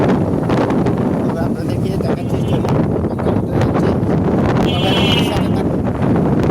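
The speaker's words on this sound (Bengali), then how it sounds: "বাতাস অনেক সুন্দর। আপনারা হয়তো কিছুটা শুনতে পাচ্ছেন," Wind gusts buffet the microphone outdoors under a cloudy sky, a steady rushing roar that fills the whole stretch while someone talks over it.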